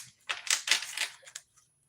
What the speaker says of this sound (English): as I'm shuffling these cards